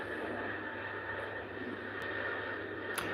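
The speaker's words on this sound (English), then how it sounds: "Next flight on the runway is an Airbus 350 heading all the way" Airbus A350 airliner on the runway at Heathrow, a steady jet engine roar and whine with a few brief clicks over it, heard from a moderate distance.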